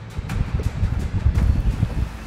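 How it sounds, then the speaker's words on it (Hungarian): Wind gusting across Lake Tisza while fishing from a boat in summer, a steady low roar of buffeting air on the microphone with rustling, continuous throughout. "Folyamatosan fúj a szél,"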